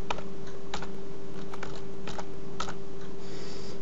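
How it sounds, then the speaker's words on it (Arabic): A password is typed on a computer keyboard: sparse, light key clicks spaced irregularly over a steady low electrical hum, fairly close, with no talking. "اضغط اكتب كلمة السر، أعد كتابة كلمة السر"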